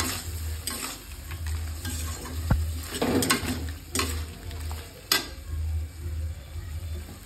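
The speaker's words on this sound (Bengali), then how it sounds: "আমি এবার চিংড়ি মাছগুলো সব দিয়ে দেবো, দিয়ে আর একটু ভালো করে নাড়াচাড়া করে দেবো।" Prawns are stirred in a sizzling pan while cooking a prawn malai curry, with a steady soft frying hiss under intermittent scraping and clinking of a spatula against the pan.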